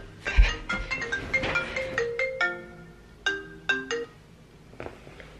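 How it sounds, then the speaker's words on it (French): A telephone rings with a melodic ringtone, a run of bright tonal notes in irregular bursts over about five seconds, fairly quiet and alone. "Bon, excusez, j'ai eu un téléphone."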